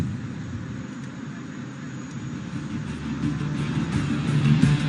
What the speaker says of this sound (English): watch as he inverts his aircraft and pulls through for a split S, turning her around in no time